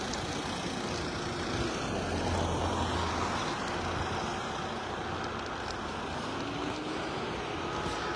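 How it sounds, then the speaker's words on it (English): A diesel car engine idles and briefly revs up outdoors, a low rumble rising and falling within steady traffic noise at moderate distance. "there is a car with an engine idling and the motor sort of revs up"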